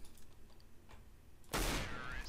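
A single loud burst of video game gunfire erupts after a quiet, murky stretch, its noisy crack and rumble lingering to the end.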